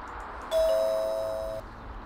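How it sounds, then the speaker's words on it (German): A doorbell rings at a closed bakery in the point-and-click video game Zak McKracken: one clear electronic ding-dong chime that holds for about a second and then fades, with nothing else heard. "Für Anfragen Klingel drücken."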